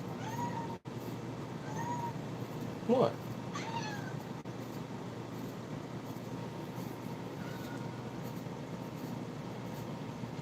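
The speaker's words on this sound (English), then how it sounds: "Cat wants attention." A cat meows for attention in a manufacturing shop, a few short mid-level calls scattered through steady background noise, with a person briefly speaking.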